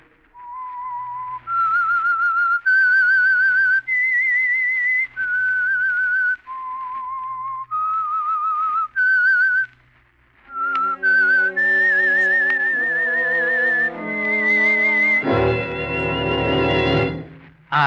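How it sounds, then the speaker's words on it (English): A whistled theme for an old mystery radio show, a clear melody of sustained notes rising and falling, with an orchestral swell joining at the end. "That whistle is your signal for the Signal Oil Program"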